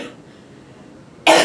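A single sharp cough bursts out near the end of a press briefing after a brief quiet pause.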